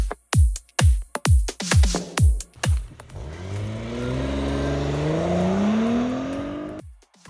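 A 2017 Audi S4 with a turbocharged V6 and all-wheel drive accelerates, first with a series of sharp revving bursts, then a sustained rising engine note climbing through the gears, loud and close.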